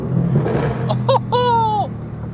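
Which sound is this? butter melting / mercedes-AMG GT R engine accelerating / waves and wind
mercedes-AMG GT R engine accelerating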